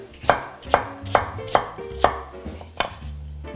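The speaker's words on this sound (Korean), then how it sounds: "이런 마늘 다지는 커터기에다가 넣어서 하시면 쉽게 하실 수 있으니까" Apple pieces being chopped in a manual garlic chopper set on a counter, six sharp, evenly spaced chopping thuds that are loud and close, each with a brief rattle, followed by a quieter final knock.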